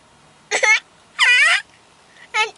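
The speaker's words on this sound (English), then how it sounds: "You got the hiccups." A young child hiccups three times in short, strained bursts with crying-like pitch, each separated by brief pauses of quiet.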